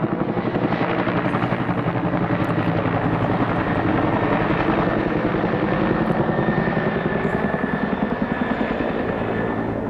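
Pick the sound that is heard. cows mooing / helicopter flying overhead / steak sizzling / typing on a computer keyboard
helicopter flying overhead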